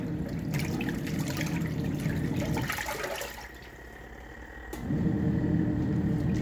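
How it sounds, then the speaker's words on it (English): A KUPPET 26 lb portable washing machine churns clothes in water, sloshing and splashing up close, dropping to a quieter hum for a moment before the watery churning surges back. "It's kind of relaxing to watch clothes wash, isn't it?"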